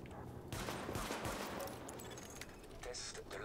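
Handgun test fire in The Division video game, a dense run of gunshots under steady game noise while someone speaks French over it.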